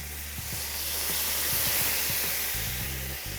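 Paella stock in a wide pan on the stove, seafood paella in progress, giving off a steady close sizzling, bubbling hiss with a low hum underneath and a few soft clinks.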